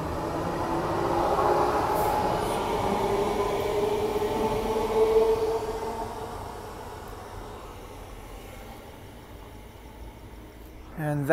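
A Queensland Rail electric multiple unit train rumbles steadily at Booval Station, the sound fading as it pulls away, with brief squeals and noise near the end.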